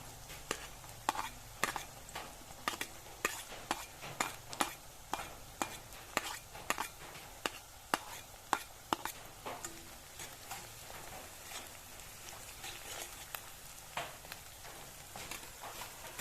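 Onion and chili frying in a pan while a utensil stirs them, giving a run of sharp, evenly spaced scraping knocks over a low, steady sizzle, close up and with no voices.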